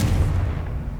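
A deep, rumbling explosive blast from the Confringo spell in Hogwarts Legacy booms loudly at once, then decays over about a second.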